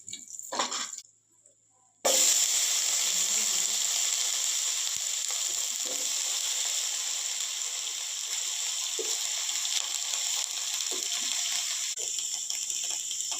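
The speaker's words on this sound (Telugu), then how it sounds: "మళ్ళీ ఇప్పుడు వంకాయ నూనెలో వేయించుదాము" Brinjal pieces sizzle in hot frying oil, a loud steady hiss that starts abruptly and continues evenly with small pops throughout.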